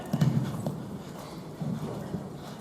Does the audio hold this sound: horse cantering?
yes